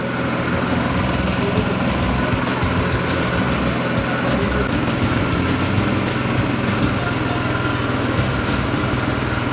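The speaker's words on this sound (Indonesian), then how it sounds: "kita hanya menuangkan kelapa parut ke dalam mesin" A motorised coconut press churns through grated coconut to squeeze out coconut milk, a steady loud engine hum with a rattling mechanical drone running unbroken throughout.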